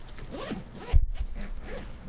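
Zippers on a briefcase are pulled open in a few quick rasping strokes, close and clear, with a sharp knock partway through.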